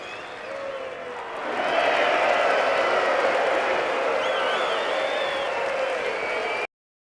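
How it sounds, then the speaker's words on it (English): Steady crowd applause with scattered cheers from a video game race scene swells after a second and holds at full volume, a dense wash of clapping from a large audience. "Applause!"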